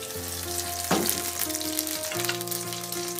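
Oil heats and sizzles in a pan while pizza is being made, a steady frying hiss lasting throughout, with a brief sharper burst near the start and tonal hum under it, no talk.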